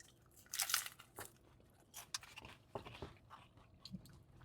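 A Taco Bell tortilla shell from the Decades menu being bitten and chewed up close, several crisp crunches in uneven bursts, the loudest near the start, with no talking.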